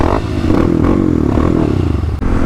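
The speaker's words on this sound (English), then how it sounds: "we are gonna head to the gravel road where my friend and I will rip in the Subaru and the KLX" A Kawasaki KLX dirt bike riding on a gravel road, its engine droning loud and close with a steady rough note, overlaid with clattering and scraping from the loose stones.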